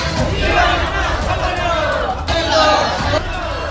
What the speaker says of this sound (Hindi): कलेक्ट्रेट पहुंचकर जमकर नारेबाजी भी की।